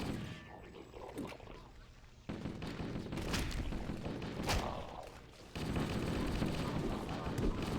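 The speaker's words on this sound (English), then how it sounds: "I love how much faster Master Chief shoots the assault rifle than everyone else." Rapid assault rifle fire from Master Chief in Halo: Combat Evolved, sustained bursts under a dense wash of overlapping battle gunfire, loud and continuous with brief shifts in intensity.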